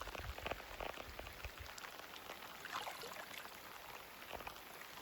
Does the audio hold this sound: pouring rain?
yes